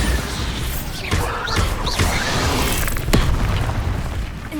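Bombarda spell blasts in Hogwarts Legacy, with heavy booming impacts and crashing debris rising out of a dense, continuous wash of combat noise, several bursts landing close and loud over a few seconds.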